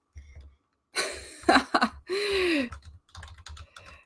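Bursts of keyboard typing, close and clicky, alternating with short breathy sighs and an exhaled murmur between the bursts.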